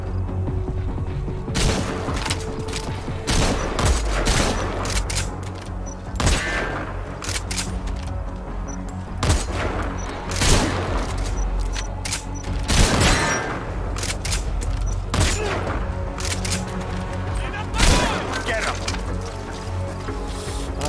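Repeated loud shotgun blasts from a video game, sharp booming shots at irregular intervals across the stretch, heard with game sound and a voice talking over them.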